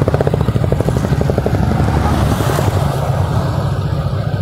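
A motorcycle engine hums with a rapid pulsing throb while riding on a road near a bridge under construction, mixed with heavy wind buffeting, loud and continuous with no talk.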